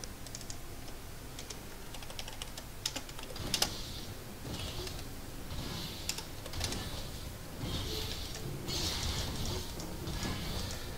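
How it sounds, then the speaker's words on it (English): Computer keyboard typing during a League of Legends match, a steady run of quick, light key clicks with small bursts and pauses, close and clear over faint game sound, no voices. "the reason I was typing there"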